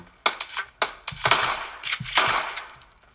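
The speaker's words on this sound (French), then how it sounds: "Petit coup de fusil à pompe" A pump-action shotgun in a mobile video game fires several sharp, loud blasts in quick succession, each followed by a brief mechanical clack, heard close with no talking.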